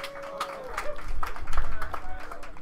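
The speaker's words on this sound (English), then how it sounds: "Let's give these guys a big round of applause for the prizes." A crowd applauds the prize winners at a drone racing event, scattered claps at mid distance mixed with a speaking voice and background bustle.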